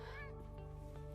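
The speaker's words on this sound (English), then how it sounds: "This is my cat. Say hi." A pet cat meows once in a quiet room, a soft drawn-out call close by with a steady low hum underneath.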